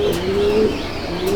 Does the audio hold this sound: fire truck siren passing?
no